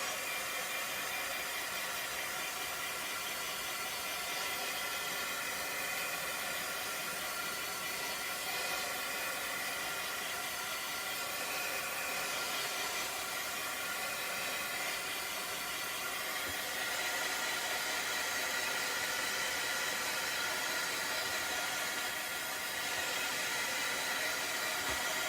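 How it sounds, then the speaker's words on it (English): A craft heat tool blows steadily to dry freshly painted farmhouse miniature pieces, a constant airy hiss with a few small shifts in tone, alone and fairly quiet throughout. "I'm going to grab my heat tool"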